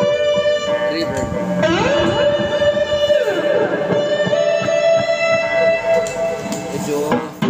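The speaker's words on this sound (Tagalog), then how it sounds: "Reverb." Electric guitar through a Jcraft LTX Drive distortion pedal with reverb added, ringing sustained notes and sliding bends that wash into a lingering tail, loud and steady throughout.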